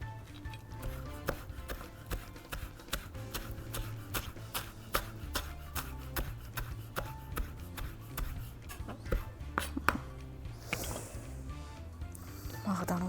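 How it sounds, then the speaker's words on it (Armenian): A knife chops fresh parsley or coriander on a cutting board in a kitchen, a steady run of quick, crisp taps, faint and close, with someone talking over it. "ստեղ ունենք ազատքեղ կամ մաղդանոց մի քիչ կտրատելու եմ"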